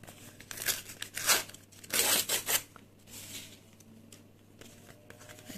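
Paper surprise packet shaped like a potion cauldron being torn and crinkled open, several close, sharp bursts of ripping and rustling paper with quieter handling in between.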